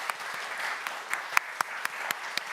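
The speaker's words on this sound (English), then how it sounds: "let's applaud her and thank her for" Audience applause after a lecture, a steady patter of clapping with a few sharper, louder claps standing out, moderately close.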